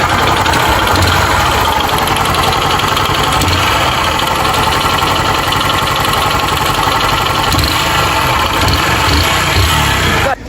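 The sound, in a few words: 150cc motorcycle engine idling with engine noise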